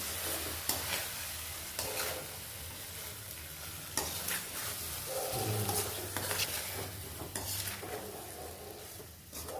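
Ingredients sizzle and fry in hot oil for Tirunelveli marundhu kuzhambu, with steady crackling under repeated stirring and occasional scrapes and clinks of a spoon against the pan.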